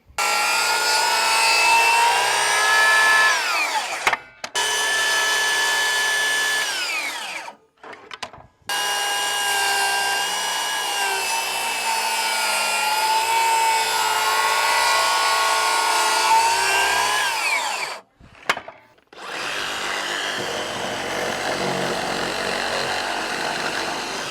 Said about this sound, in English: finish them off with the Sawzall and a chainsaw a little bit